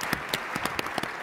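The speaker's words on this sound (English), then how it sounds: "please give them a round of applause." Brief scattered clapping from an industry forum audience, a few distinct claps rather than a full ovation, fairly faint and with no talk over it.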